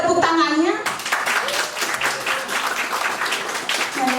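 Church congregation clapping during a Sunday worship service, a burst of applause mixed with chatter and voices, following a short spoken phrase.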